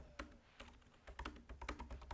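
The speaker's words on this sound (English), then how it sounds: "I'm just typing in some text" Someone types text on a computer keyboard, tapping out quiet, irregular keystrokes in quick clusters with brief pauses between them.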